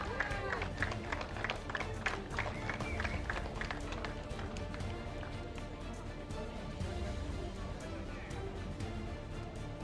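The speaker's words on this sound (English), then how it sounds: "a round of applause to Arhan Qureshi" A crowd applauds a junior-category kart racer at the podium ceremony of the IAME Middle East Cup. Scattered, quick claps carry on steadily under a voice on the public address and background music.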